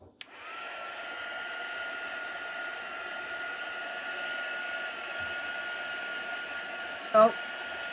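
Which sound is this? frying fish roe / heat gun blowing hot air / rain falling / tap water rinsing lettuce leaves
heat gun blowing hot air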